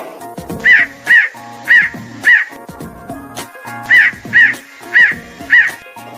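A crow caws repeatedly in two bursts of four harsh calls, evenly spaced with a pause between sets, loud and close, with some other background noise.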